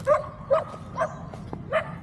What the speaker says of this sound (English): Same damn dog that was barking at me here the other day.